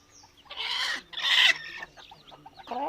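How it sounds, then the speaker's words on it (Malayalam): A hen and her chicks cluck close by in a few short, loud bursts, with softer peeping in between and no talking. "ഇതൊക്കെ അമ്മേൻ്റെ കോഴിക്കുട്ടികളാ"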